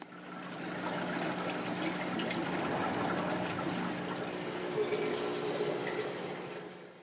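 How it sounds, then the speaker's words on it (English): Aquarium water drains from several tanks through PVC pipes into buckets of filter media, making a continuous close splashing trickle and gurgle that holds steady with no pauses. "Water from the top of the aquarium is strained as it flows out into the PVC drains."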